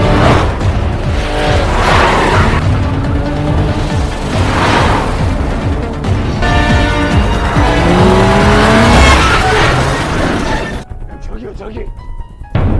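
A police car chases a gangster's car through a crime thriller, engines roaring and tyres screeching in long loud sweeps. A narrator speaks over it before the noise drops off abruptly near the end.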